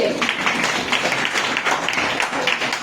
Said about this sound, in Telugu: కుటుంబ ప్రార్థన చప్పట్లు కొడదాం